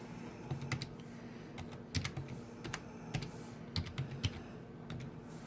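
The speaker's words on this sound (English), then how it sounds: "I'm going to open a browser here and type in our IP address." Someone types an IP address into a browser on a computer keyboard. The keystrokes come as quiet, close, irregular clicks and taps in short bursts, with no talk.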